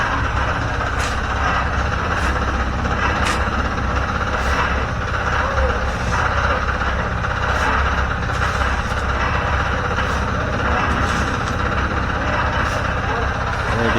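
A concrete mixer's engine runs steadily and loud at a Philippine swimming-pool construction site, a constant low droning rumble with faint clanks on top and no break in the noise.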